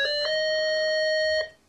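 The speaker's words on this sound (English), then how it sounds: "pitch pipe which will play you a variety of tones," A metronome's pitch pipe plays a steady, pure sustained tone, loud and close, holding for over a second before fading out.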